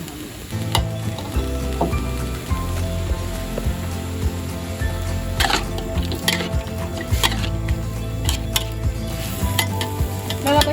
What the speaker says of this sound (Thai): แล้วก็ผัด หอยนางรมนะคะ